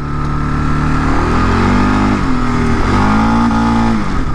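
A motorcycle engine pulling hard in first gear, a loud, close, continuous drone whose pitch climbs, dips briefly, then rises again as it accelerates, with no speech.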